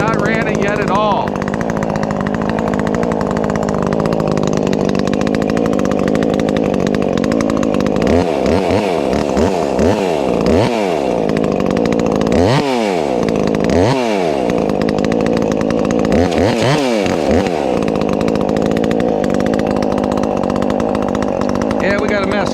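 A ported NeoTech 843 chainsaw, a Husqvarna 543xp clone fitted with a brand-new chain, runs loud and close, holding a steady high idle and then revving up and down in repeated sharp bursts.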